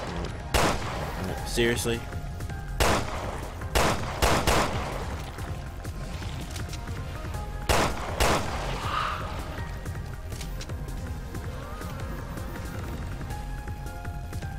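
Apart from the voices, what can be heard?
gunfire in video game Resident Evil Revelations 2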